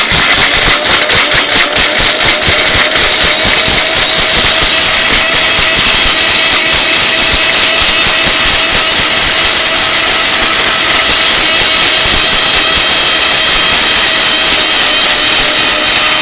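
A Miyako 2200 watt blender grinds whole turmeric pieces, a loud, constant motor roar with rattling and knocking of the hard chunks at first, settling into a steady high whine, close and alone.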